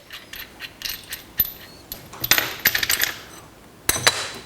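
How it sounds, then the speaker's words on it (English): A big nut, a flat washer and a bolt are taken off a handle pole steering assembly, giving close metallic clinks, jingles and scraping clatter in uneven bursts, fairly loud, with no voices. "We're going to take the big nut off, take the flat washer off, pull the big bolt out"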